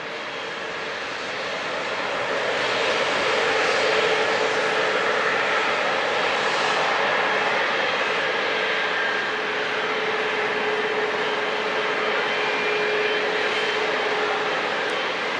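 Airliner engines roar steadily on the runway at San Diego International airport, a sustained broad rumble that swells over the first few seconds and then holds loud and even, with no talking.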